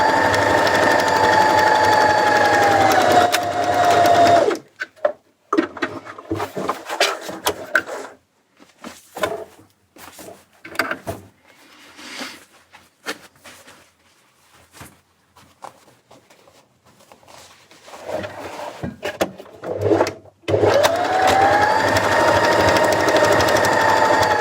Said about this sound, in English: We flatten it out and we can stitch along that line